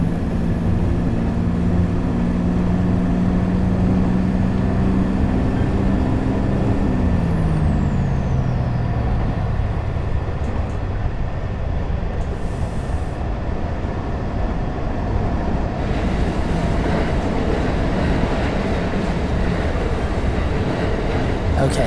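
A diesel locomotive from a train-driving video game runs in second gear, with a loud steady engine drone and air-brake hiss. A falling tone sweeps down early on, and the rumble continues unbroken throughout.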